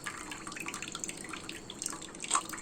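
Water being poured off and draining away, with soft trickles and drips at low volume and a brief splashy spurt near the end.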